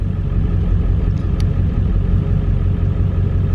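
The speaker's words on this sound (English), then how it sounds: "Hopefully the truck running doesn't just destroy the audio." A Ford Powerstroke diesel truck engine idles close by, a loud, steady low rumble with a constant throbbing drone and no variation in pace.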